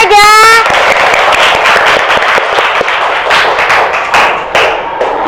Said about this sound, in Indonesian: Beri tepuk tangan Aida.